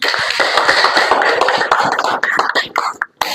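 A classroom of students applauding a classmate, with dense, close clapping that runs for about three seconds and then tapers off into a few scattered claps.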